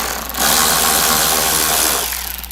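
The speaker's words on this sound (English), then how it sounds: "the first thing you want to do is remove the existing bolt" A power tool whirs loudly and steadily for about two seconds, close up, while removing a bolt from the windshield trim of a Harley-Davidson Touring motorcycle, then winds down.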